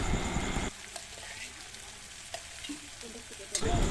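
Pointed gourd (potol) fries in a pan with a bright sizzle, then quietens to a low hiss with occasional spatula scrapes and taps as the pieces are stirred, before the sizzle surges again at the end.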